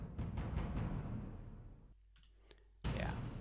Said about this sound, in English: quite big sound of the Epic Toms ensemble